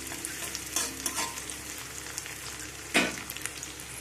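Chopped green chilies and chili paste fry in a pan while being stirred, a steady soft sizzle with a few louder scraping stirs, one sharp clatter near the end.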